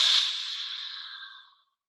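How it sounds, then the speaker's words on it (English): A single strong, forceful Bikram-style breath is pushed out through the mouth from the abdomen, close and breathy. It fades over about a second and a half and is followed by silence. "It's a really strong exhalation that actually originates from your abdominals."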